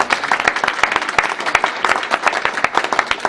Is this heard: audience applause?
yes